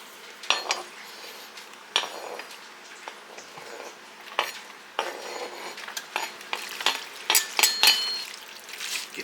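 Onion being stirred into stromboli filling in a pan with garlic and herb butter, giving close clinks and scrapes of a utensil against the pan in uneven bursts over a soft background.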